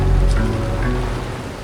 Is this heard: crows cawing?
no